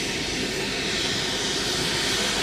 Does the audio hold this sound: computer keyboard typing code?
no